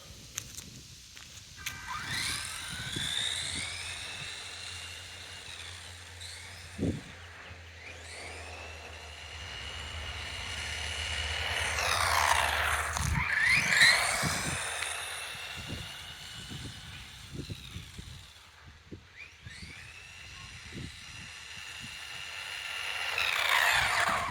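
An RC mini buggy on a speed run down a long stretch, its small electric motor whining up and down in pitch as it accelerates away and returns, rising to a loud close pass, then fading and rising again.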